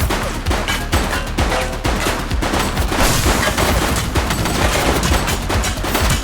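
Rapid gunfire in The Precinct video game, with loud bursts of shots cracking in quick succession over a dense, booming background, hammering on steadily throughout.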